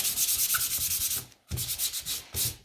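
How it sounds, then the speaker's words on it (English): Rhythmic, scratchy strokes of sandpaper rubbing across a wooden skateboard deck, repeated back and forth with a brief pause midway, close up. "So I'm just going to finish sanding here"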